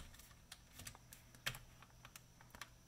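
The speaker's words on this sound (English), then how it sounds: "Just type in sudo" Keys click on a computer keyboard as a Linux command is typed to launch a drive-wiping tool, a quick uneven run of light, close taps in an otherwise quiet room.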